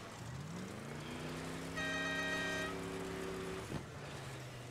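A car's engine in the video game Crossout drones and rises in pitch as it drifts up a hill, holding a steady loud whine before cutting off abruptly near the end.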